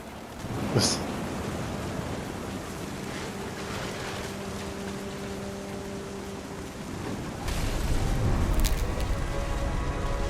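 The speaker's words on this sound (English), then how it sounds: "The thunder sounded much too close and full of angry power." Thunderstorm in What Remains of Edith Finch: steady heavy rain hiss throughout, a sharp thunder crack early on, and a louder surge of rain and rumble near the end, with no voices.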